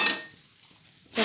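A spoon clinks against a dish of upma, giving one bright clink at the start and another at the end, with a near-silent gap between them.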